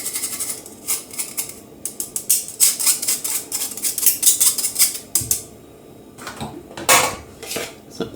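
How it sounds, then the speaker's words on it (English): A spoon stirs batter for a red velvet cake in a bowl, giving repeated bright metallic clinks and scraping against the sides in irregular bursts, close and fairly loud. "So I'm going to just stir it with the spoon."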